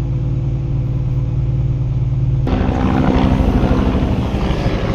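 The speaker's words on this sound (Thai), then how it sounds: "เฮลิคอปเตอร์ตำรวจ3ลำ" Three police helicopters flying overhead at a street-clearing scene, a loud continuous rotor and engine drone that thickens into heavy rhythmic chopping as they pass close.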